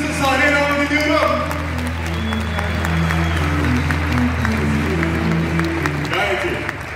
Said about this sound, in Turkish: O zaman Alper Rendi, alkışlarınızı sahneye davet ediyorum.